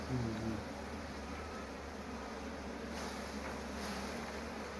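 Honey bees buzzing around an opened hive during honey harvesting, a dense continuous drone close to the microphone with some wind noise, no speech.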